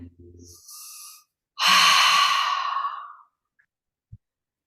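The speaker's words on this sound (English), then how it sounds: "Just breathing into your nose and exhaling out of your mouth" Slow guided breaths: a soft nasal inhale, then a louder, longer whooshing exhale through the mouth, close and alone in an otherwise quiet space, ending with a faint click.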